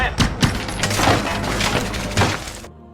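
Window glass shatters under a violent attack on a farmhouse. A loud burst of breaking and crashing is followed by scattered tinkling fragments, and the sound cuts off abruptly near the end.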